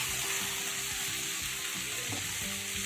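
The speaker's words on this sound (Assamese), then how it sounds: "আৰু এতিয়া মই বিলাহীখিনি, কাটি থোৱা বিলাহীখিনি মই দি দিলোঁ একেলগে। আৰু দি ভালকৈ মিক্স কৰি মই লাৰি ল'ম।" Chopped tomatoes frying in a pan, a loud continuous sizzle with soft scraping strokes of stirring running underneath, close and steady throughout.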